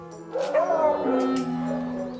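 Beagles give high, drawn-out yips and whimpering barks, close and fairly loud, with a couple of short sharp bursts over the wavering cries.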